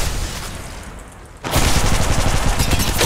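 Dense automatic gunfire in Apex Legends Mobile bursts in loudly halfway through after a quieter stretch of battlefield ambience, then rattles on continuously at close range with no talking.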